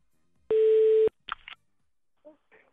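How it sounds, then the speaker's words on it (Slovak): Telephone ringback tone on a call to a workplace, one steady buzz of about half a second, followed by brief faint clicks and line noise. "Zvoní to zvoní."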